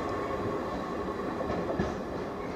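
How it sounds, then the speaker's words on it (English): A container freight train led by a Class 66 locomotive passes through Trimley station at speed, a steady loud rumble of wagons and wheels filling the whole stretch with faint rail clatter and no talk. "Just had a second container train pass through Trimley at speed"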